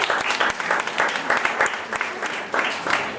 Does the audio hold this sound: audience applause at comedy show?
yes